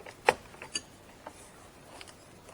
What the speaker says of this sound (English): pop out the windowsill